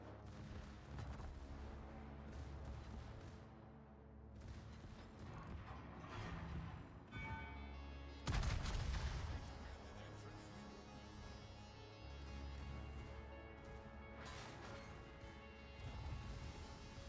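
Warship guns booming in World of Warships, with heavy crashing salvos, one especially loud, over a constant engine and water rumble.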